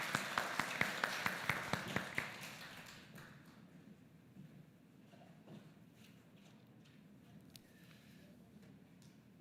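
Church congregation applauding: a brief run of distinct, rhythmic claps for about two seconds, then faint room murmur and quiet shuffling.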